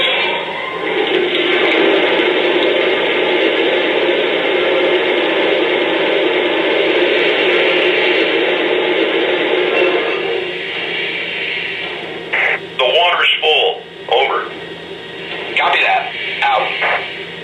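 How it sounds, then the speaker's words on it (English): A Lionel model locomotive's sound effect of water filling the tender, a steady rushing, hissing gush played through a small speaker, then fading as a voice starts talking over it near the end. "And here's the sound of water being added to the tender."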